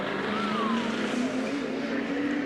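Race car lapping the Sandown circuit during the 2003 Sandown 500 endurance race, a steady, loud engine drone with a rising whine, held continuously throughout without speech.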